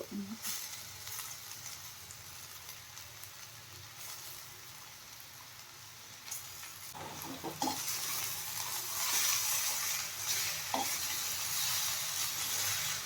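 Anne soppu greens with onions sizzle and get stirred in a pan for a village-style upsaaru, a steady broad hiss with occasional scraping knocks, growing louder and brighter in the second half.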